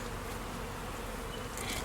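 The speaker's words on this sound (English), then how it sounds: "And you can just watch the bees while I'm gone." Honeybees buzz steadily around an open hive during a spring inspection, a dense continuous drone close by with no voices over it.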